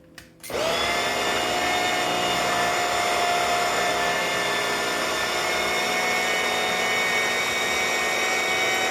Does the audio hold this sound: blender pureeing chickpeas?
yes